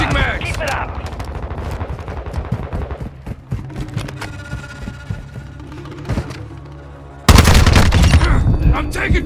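Heavy gunfire in Call of Duty Modern Warfare 2 multiplayer, with dense rapid bursts and sharp shots throughout and a sudden loud volley near the end, while a voice calls out over the shooting.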